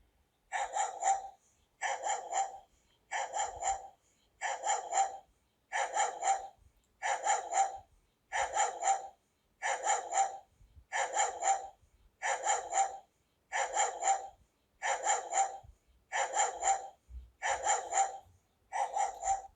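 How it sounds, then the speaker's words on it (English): A dog barks steadily and loudly, single barks repeating at an even rhythm about once a second with silence between them. "let us first test for dog barking"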